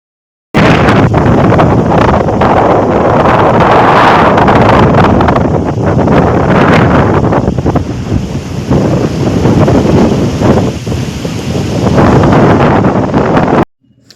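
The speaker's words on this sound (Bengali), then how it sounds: "কি ভীষণ জোরে হাওয়া হচ্ছে" Stormy afternoon wind roars nonstop beside open water with small waves, buffeting the microphone in a loud, rough rush for about thirteen seconds before cutting off, with no voices.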